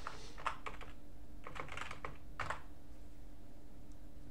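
Close computer keyboard typing of an install command, a few quick bursts of clicky keystrokes separated by short pauses over a steady background hum.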